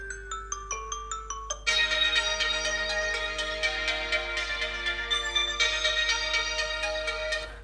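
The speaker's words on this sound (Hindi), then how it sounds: "कुछ रिंगटोन्स चलाते हैं।" A Samsung Galaxy A52s 5G phone plays a ringtone through its dual stereo speakers: a rising sequence of bright chime notes, then a fuller melodic tune with sustained tones, loud and close with no talking.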